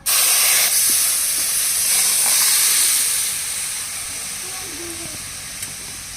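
Soaked lentils (dal) hit a hot pan with a loud, sudden hiss of steam and sizzle that gradually settles into a quieter, steady frying hiss.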